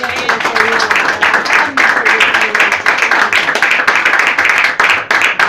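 A church congregation bursts into loud, sustained applause, dense rhythmic clapping filling the hall with some voices mixed in.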